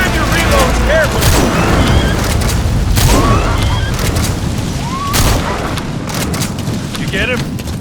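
Gunfire and heavy booms in the video game Metal Gear Solid 5, loud bursts of shots and blasts packed densely across the clip, with voices shouting over the combat.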